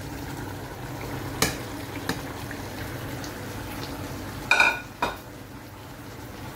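Chicken adobo with corn and vegetables is stirred in a pan over a low, constant sizzle, with a few sharp scrapes and clinks of the utensil against the metal.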